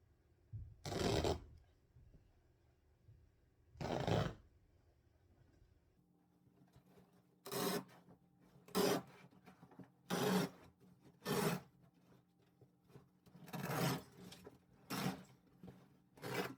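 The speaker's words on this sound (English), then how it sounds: "I was able to rip up the carpet without a whole lot of trouble" Old carpet ripped up from a floor in an addition, torn along a seam in sections: about nine separate bursts of tearing and rasping, a couple early then a quicker run later, with a faint steady hum between.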